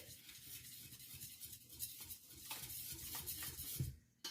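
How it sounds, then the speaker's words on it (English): Close, quiet whisking of grain-free, sugar-free brownie batter in a bowl, with repeated rhythmic scraping and light clinks against the sides. "I'm just going to whisk this until it's well incorporated"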